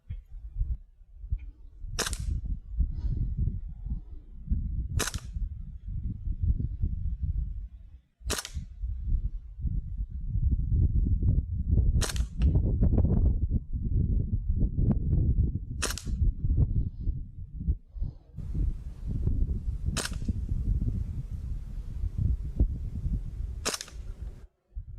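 A Springfield Armory M1 Carbine BB gun fires about eight sharp, snappy shots at targets outdoors, spaced a few seconds apart, each crack standing out clearly over a steady low rumble of background noise.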